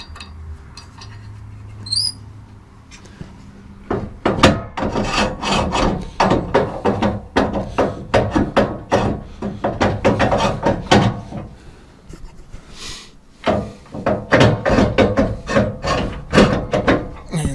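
Someone tightens a Woodland Mills PRO log support on a sawmill, making a run of rapid, rhythmic wooden rubbing and rasping strokes, loud and close. It starts after a quiet opening and pauses briefly midway.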